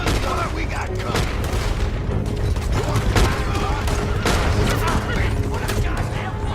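Dense gunfire rings out during a coach robbery in the Western game Red Dead Redemption 2, rapid overlapping shots and booms crackling continuously at a loud level, with voices mixed in.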